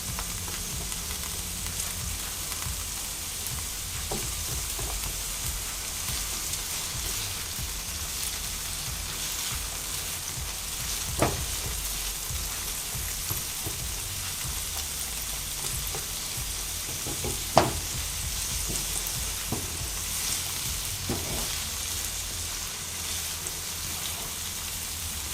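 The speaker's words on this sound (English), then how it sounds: "Then you're going to add the sliced shallots, which I have right over here" Sliced shallots frying in a pan with Mexican spice, a steady close sizzle running throughout, with a few brief clinks of stirring around the midpoint and later.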